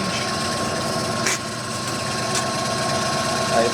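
A Clausing Colchester VS12 lathe runs in its low speed range with a steady mechanical hum and faint clicks, loud and close throughout.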